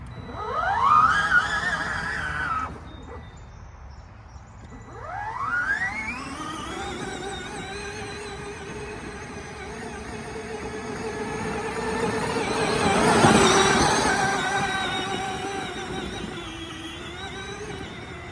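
Peg Perego ride-on toy car with a 24-volt conversion motor whirring as it drives, electric whines rising with throttle, pausing, then running steadily and swelling again, fairly close.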